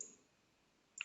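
A single computer mouse click lands near the end, a short sharp double tick against near silence while server settings are selected in a home lab.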